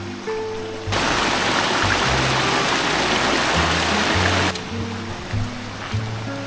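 Rushing water of a waterfall near a barangay in Boac, Marinduque, a loud steady roar that swells in for a few seconds then drops back, with music underneath throughout.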